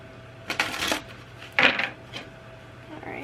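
Tarot cards being shuffled in a few short, crisp riffling bursts with quiet gaps between, close and fairly soft.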